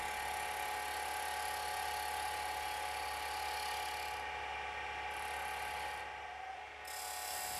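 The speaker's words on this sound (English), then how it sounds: "Shear cut the outside of the complete lidded box." A wood lathe shear cutting the outside of a complete lidded box, a steady close whirring hiss of the tool on spinning wood, continuous and even with brief dips near the end.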